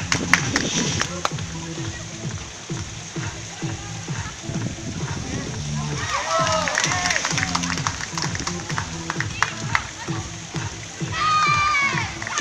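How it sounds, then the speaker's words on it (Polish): Applause and cheering for the red team rise from a crowd at a beach handball match, heard under a loud announcer's voice and children's chatter, with a swell of clapping toward the end. "dla czerwonia brawa, drodzy państwo, oklaski"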